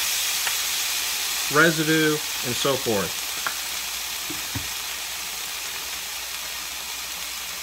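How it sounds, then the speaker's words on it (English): Steady frying hiss of turkey bologna in a 10-inch Copper Chef skillet fills the background while a person speaks briefly over it. "Can hear it frying."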